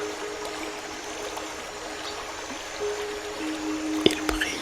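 A babbling stream in a Bali setting runs as a steady, soft trickle of water throughout, with a few brief brighter splashes near the end.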